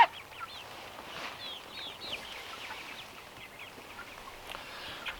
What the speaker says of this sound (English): I've got a chicken pecking my leg